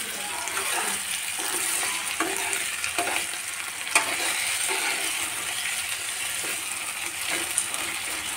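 Potatoes tossed with salt frying in a pan for aloo methi, a dense, even sizzle with scattered scraping and clinking as they are stirred, close and fairly loud, no speech.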